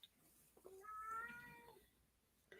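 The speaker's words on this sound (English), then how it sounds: "that's my cat in the background" A single drawn-out meow from a house cat in the background, fairly faint and tonal, rising and then fading, with a short sound right after it.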